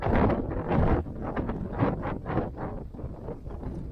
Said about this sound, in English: the wind is blowing literally straight down the canyon right at me